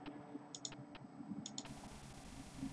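Several sharp, quiet computer mouse clicks come in quick pairs, close-up, over a faint background hum, with no voices.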